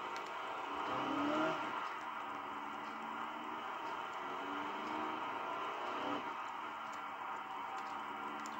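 A video game car pulls away from a gravel parking lot, its engine hum rising twice in pitch as it accelerates, steady and moderately quiet with faint ticking in the background.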